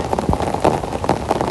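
Heavy rain falling on Kabaragala mountain, a close, continuous patter with scattered louder drops hitting nearby surfaces.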